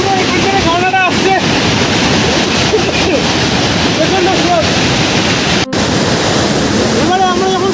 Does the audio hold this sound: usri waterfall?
yes